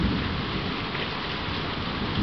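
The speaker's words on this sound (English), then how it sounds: "I love the thunder, and I love the rain, and I love the lightning." Steady, dense rain pours down during a nighttime thunderstorm, a continuous close wash of falling water with a low rumble of thunder underneath, and no voices.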